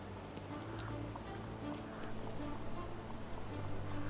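Steady rain from the game Sherlock Holmes: The Awakened, a continuous dense patter on surfaces with scattered distinct drops, even and moderately loud with no talk.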